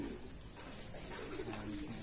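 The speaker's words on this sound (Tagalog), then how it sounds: "May kalapati doon na isa." Racing pigeons at a derby loft, with soft cooing calls repeating a few times amid steady background noise, faint and somewhat distant.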